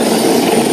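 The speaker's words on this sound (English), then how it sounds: "You can see a United States Coast Guard helicopter behind me." A United States Coast Guard military helicopter flying rescue runs in the Bahamas after Hurricane Dorian gives off a loud, steady, close roar of rotor and engine noise with no break.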